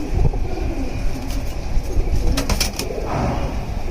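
Low, rolling coos come from old-breed black-necked pigeons at close range, continuous and unhurried, with a brief flutter of wings and some background noise.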